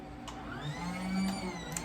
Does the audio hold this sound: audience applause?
no